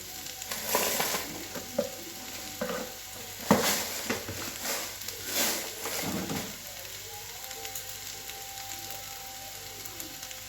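Potatoes sizzle and crackle as they fry in hot oil, with bursts of stirring and scraping in a pan, close by and fairly loud.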